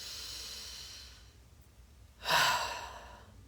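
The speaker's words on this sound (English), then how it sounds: "Take a deep breath and exhale like that" Single deep breath drawn in and then released as a loud, close exhale about two-thirds of the way through, heard alone after a quieter, airy first part.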